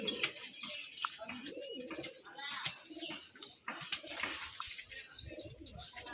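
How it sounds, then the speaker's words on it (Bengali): Pigeons coo softly at a Rajshahi loft of gerebaj pigeons, with repeated low calls and rustling nearby, the birds fairly close. "এটা আমার বিস্কিট কালার একটা অনেক পুরনো একটা কবুতর, অনেক পুরনো।"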